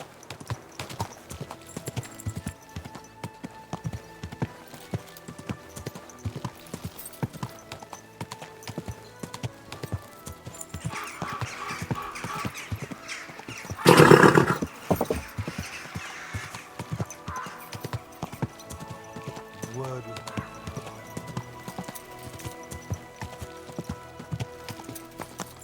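Horse hooves clip-clop steadily and close throughout, with a loud burst partway through where a whinny may rise, and no clear talk over it.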